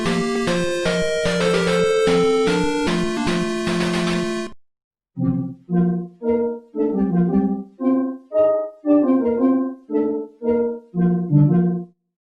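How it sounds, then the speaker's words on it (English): A Famicom Disk System startup jingle followed by a Nintendo GameCube home menu sound sped up sixteen times, both synthetic and fairly loud: first a dense sustained chiptune burst, then a brief gap, then rapid choppy bursts of chirping tones. "I'm going to play a Famicom Disk System startup"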